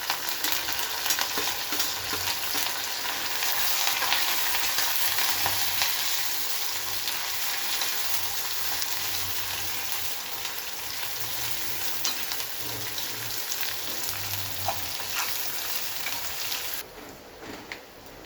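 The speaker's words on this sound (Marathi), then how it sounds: "हा बारीक चिरलेला लांब कांदा आपण इथं टाकतो लालसर असा परतून घ्यायचा आहे" Finely chopped long-cut onion frying in oil for a potato and gram flour dish, a continuous close sizzle with soft stirring scrapes, steady and even before easing slightly near the end, no voices.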